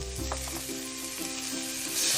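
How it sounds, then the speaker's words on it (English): Onion and garlic sauté in a hot pan with a continuous close, loud sizzle that swells slightly toward the end, with no voices. "now we're gonna saute our onion"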